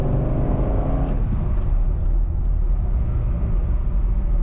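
A C6 Corvette's engine rumbles low and steady under braking with a rough, poorly matched downshift, a loud continuous drone heard from inside the car.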